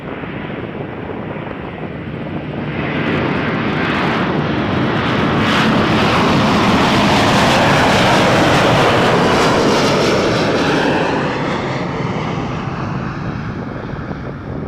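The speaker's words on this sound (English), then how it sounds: "That A330 off to Vienna, Air Canada Air Canada 886" An Air Canada Airbus A330 jet departing Toronto Pearson for Vienna produces a sustained, loud engine roar that builds and then slowly eases off, heard alone without voices.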